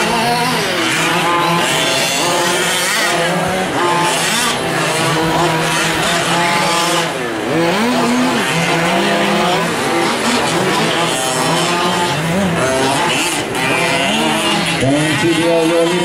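Fifth-scale gas-powered RC race cars racing at a Hitec Trophy Chase round, with several buzzing two-stroke engines whining up and down in pitch as they accelerate and slow, a continuous loud overlapping drone.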